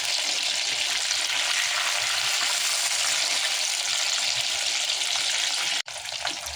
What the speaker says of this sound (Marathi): तर इथे आपले प्रॉन्स एकीकडनं फ्राय करून झालेले आहे। आता यांना आपण पलटी मारूया।